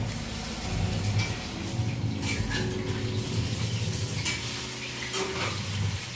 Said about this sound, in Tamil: கையை வச்சே நல்லா பிசைஞ்சிக்க போகிறோம்